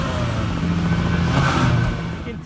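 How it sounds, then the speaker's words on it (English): Revving from a car engine, either a 2017 Mazda Miata MX5 Club Sport or a Honda Civic, held against a rev limiter: a steady, muted exhaust drone that swells slightly in the middle and eases off toward the end, close by. "we're gonna go ahead and rev my car first"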